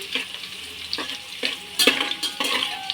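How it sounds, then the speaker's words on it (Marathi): Plenty of garlic fries in a generous amount of oil, a soft close sizzle broken by several sharp scraping stirs against the pan. "आता हे लसूण थोडासाच परतला कलर चेंज झाला थोडासा"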